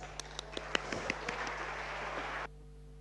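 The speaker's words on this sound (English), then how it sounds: "let's receive Francisco with a big applause" Audience applause greeting a speaker at a conference talk: a dense spread of many hands clapping at moderate distance, with a few sharper claps standing out early, sustained for about two and a half seconds before cutting off abruptly.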